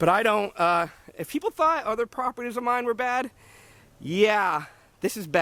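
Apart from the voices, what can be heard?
No everyday noises stand out.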